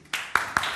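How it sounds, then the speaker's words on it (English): Brief scattered clapping at the Kazan Summit 2017 young entrepreneurs' forum investment session as a Russian startup takes the floor, a few sharp claps close by in quick succession. "Applause, please."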